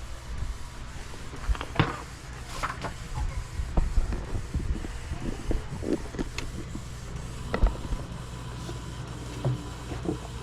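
A Canon G1010 inkjet printer printing a borderless photo gives off a steady low mechanical whir, with scattered clicks and feed clunks over about ten seconds of quiet room sound.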